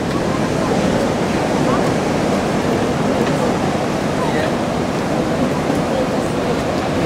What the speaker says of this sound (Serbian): dole je duboko more.